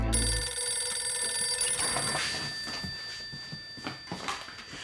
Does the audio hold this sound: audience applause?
no